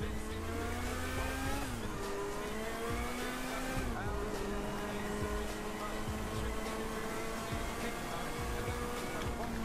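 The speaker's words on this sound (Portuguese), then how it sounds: "só pra você ouvir o ronco do motor." The BF Raptor's engine roars steadily in the GTA video game, a continuous droning growl that shifts pitch a couple of times as revs change, with no talk over it.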